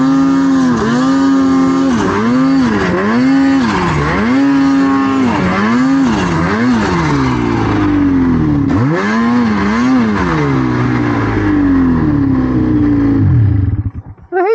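Snowmobile engines revving hard with throttles stuck open in deep Utah snow, loud and continuous with rising and falling pitch sweeps, then cutting off sharply near the end.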